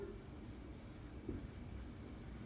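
A pen or chalk scratches across a classroom board in short, soft strokes, faint and close in an otherwise quiet room.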